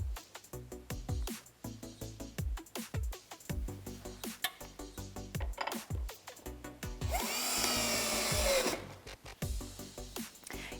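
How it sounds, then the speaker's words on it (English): A power drill with a square bit drives wood screws into the legs of a NewHeights Elegante XT standing desk, with repeated short clicking bursts and a longer steady whir near the middle, close and moderately loud. "you are going to be using your power drill for this with the square bit"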